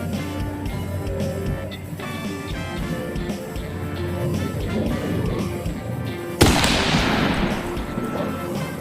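An air rifle firing during amateur shooting practice: after several seconds of low background noise, one abrupt sharp crack hits hard, followed by a bright hissing, rattling decay.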